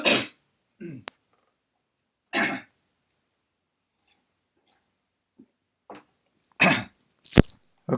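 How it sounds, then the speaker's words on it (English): A person clearing their throat and coughing: several short, harsh bursts close to the microphone, separated by long stretches of near silence, with a final cluster of coughs toward the end. "I'm sorry, I have to cough a little bit."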